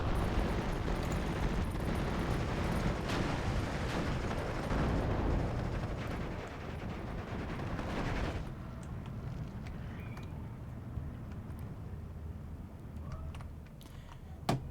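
Tank and mortar fire in the WWII strategy game Steel Division II, including Panzer tanks, heard as a dense, rumbling barrage of booms and blasts that thins out after about eight seconds into quieter, distant rumbling.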